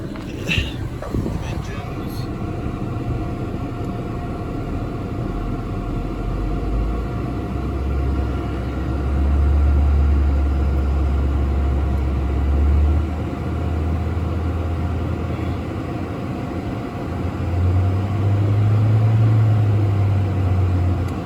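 A cold 2016 Nissan Versa SV engine idles steadily, then revs up in a few low, rising surges before settling, with a faint click near the start and no talking.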